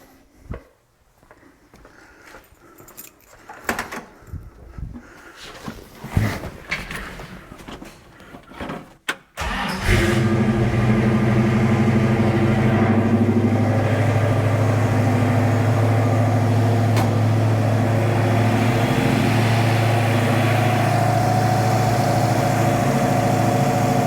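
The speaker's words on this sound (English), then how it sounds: "I think we can do a cold start, get some heat in the motor" Car engine with Holley carburetor jets being changed, fired up from cold: after a few seconds of faint handling noises it catches and settles into a steady, loud idle that holds unchanged as it warms up.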